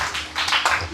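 A church congregation claps together in short bursts of acclamation, a brief, fairly loud patter of many hands inside the hall.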